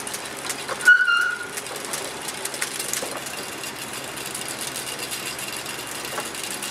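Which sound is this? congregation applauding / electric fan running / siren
electric fan running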